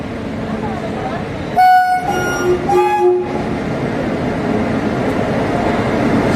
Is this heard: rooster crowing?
no